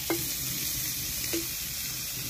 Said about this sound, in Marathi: तेल टाकून घेतलंय. कांदा परतून घेऊ चांगला.